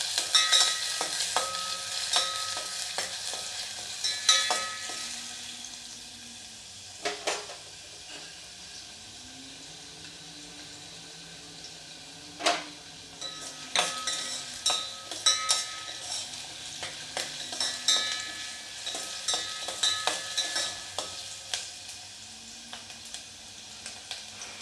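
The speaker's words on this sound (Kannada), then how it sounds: "ಇದು ಗೋಲ್ಡನ್ ಕಲರ್ ಬರೋವರೆಗೂ ಫ್ರೈ ಮಾಡ್ಕೋಬೇಕು" Vegetables fry in a pan for a homemade vegetable soup, a soft continuous sizzle broken by repeated scraping and clanking stirring strokes at an uneven rhythm, close by, with no talking.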